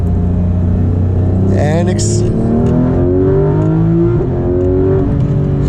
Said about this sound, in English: now we're going to downshift to second